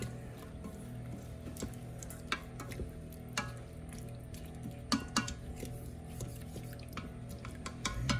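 Meat being stirred with sauce in an Instant Pot for Mongolian-style meat, a quiet scraping shuffle with scattered light clinks and taps of a utensil against the pot, steady background hum throughout.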